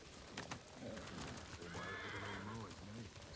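A horse neighs and whinnies in the Ghost of Tsushima video game, a loud rising-and-falling call over steady game ambience, with hoofbeats and faint speech in the background.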